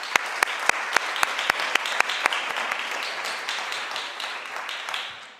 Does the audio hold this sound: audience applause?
yes